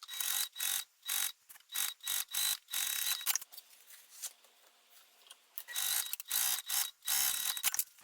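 A sewing machine stitches zipper tape to the lining at a quarter-inch seam, running in quick rhythmic bursts of close mechanical chatter with a short pause in the middle.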